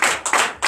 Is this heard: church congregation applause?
yes